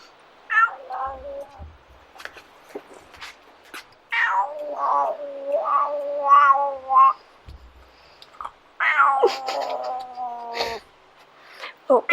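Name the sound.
cat meowing and growling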